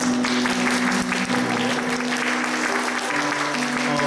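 A church congregation at a Sunday service applauds to welcome visitors, dense steady clapping filling the room for several seconds with a faint sustained tone underneath.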